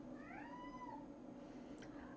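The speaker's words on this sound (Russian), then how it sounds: "кот у меня что-то сегодня бесится к вечеру" A cat yowls indoors with one drawn-out, wavering meow followed by a brief shorter cry, faint over a quiet room hum.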